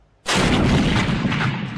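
A 17th-century cannon fires on the royal army during the Fronde-era battle of the Faubourg Saint-Antoine in Paris. One sudden, loud boom breaks into a long, rumbling roar that fades slowly.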